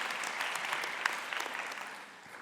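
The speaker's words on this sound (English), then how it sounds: "So another round of applause." Applause from the audience at a Berkeley statistics MA/PhD graduate commencement ceremony, a steady wash of many hands clapping at moderate distance and fairly faint, holding evenly before easing slightly.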